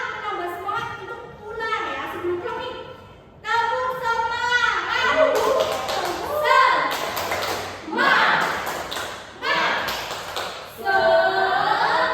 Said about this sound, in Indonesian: Yuk, kita tepuk tangan